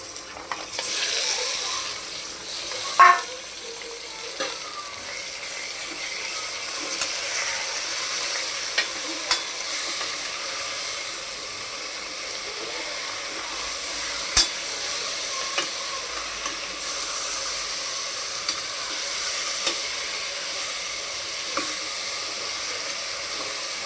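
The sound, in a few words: onion and mutton frying and being stirred in a pan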